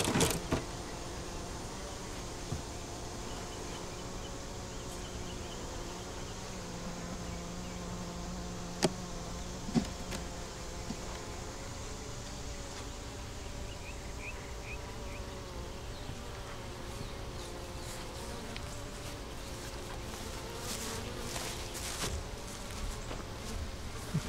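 Honey bees hum steadily around a hive in a bee yard, a continuous close buzz with occasional louder passes of single bees near the microphone.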